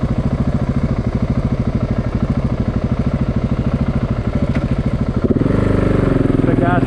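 A 2013 KTM 690 Enduro R motorcycle engine idles with a close, rapid, even thumping pulse, then near the end the revs rise and the note changes to a smoother, higher drone.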